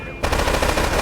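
A gun firing in Grand Theft Auto III, a rapid burst of loud automatic shots following a brief quiet start, dense and continuous.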